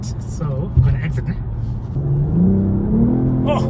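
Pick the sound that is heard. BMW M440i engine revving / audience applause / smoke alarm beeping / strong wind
BMW M440i engine revving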